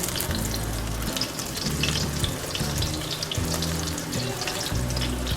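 Spinach pakoras sizzle and crackle steadily in hot oil, a loud, continuous frying hiss with scattered pops and bubbling throughout, close up and without talk.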